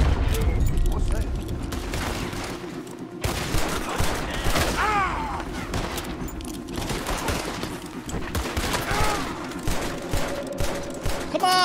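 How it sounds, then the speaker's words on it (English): Repeated revolver gunshots ring out in Red Dead Redemption 2 amid a busy firefight, with sharp cracks scattered over a dense backdrop of other gunfire and game noise, fairly loud and continuous. "it takes so many shots with this revolver to kill"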